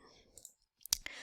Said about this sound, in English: By clicking the text button,